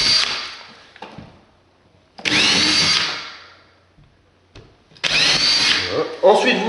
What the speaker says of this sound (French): Vous percez les 4 trous.